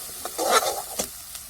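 Homemade black masala spice is sautéed in a pan for amti. A brief scrape of stirring rises over a faint sizzle, heard close up with no voices.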